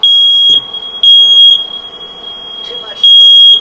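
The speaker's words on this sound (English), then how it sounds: "much smoke. Alarm cannot be hushed." A smoke alarm blares in loud, sustained high beeping bursts, cutting off and restarting in three long blasts with quieter gaps between, where faint background noise and brief indistinct voice sounds fill in.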